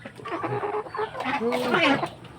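Several chickens cluck and murmur close by, with rising, squawky calls toward the end; no one speaks.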